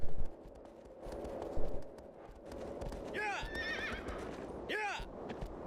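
A horse in the Shadow of the Colossus video game snorts and whinnies twice, high and loud, over steady clip-clopping hooves, with a person talking underneath.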